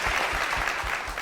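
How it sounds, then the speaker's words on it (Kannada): A studio audience on a televised singing show applauds for a contestant, a dense burst of clapping that is close and loud, with a light rhythmic pulse to the claps across a short moment. "ನಿಮಗೆ ಜೋರು ಚಪ್ಪಾಳೆ ಬರಲಿ."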